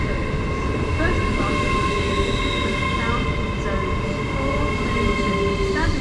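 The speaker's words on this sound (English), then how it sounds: "LNER Azuma service to Leeds." An LNER Azuma train arrives at Newark North Gate station with a loud, continuous rumble and whining traction tones as it rolls close past.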